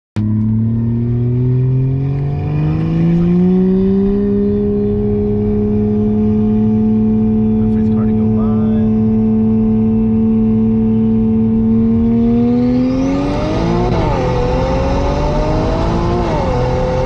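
Big single-turbo BMW 335 pulling hard on a 60 to 130 mph run, a loud, steady engine drone that rises in pitch through the pull, then dips and climbs again with shifts near the end.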